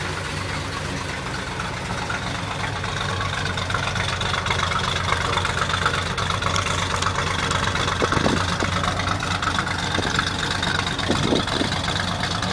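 A 1966 Ford F100 pickup's engine idles steadily and loudly nearby, a constant low rumble with a faint knocking texture throughout.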